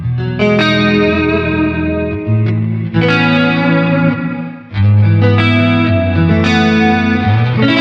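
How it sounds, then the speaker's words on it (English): Electric guitar played through a Zoom MS-70CDR multi-effect pedal on its high density reverb setting: ringing chords that sustain and wash out, several fresh strums restarting the tone, loud and close with no speech. "Spring reverbs, HD reverb, that's also a high density reverb"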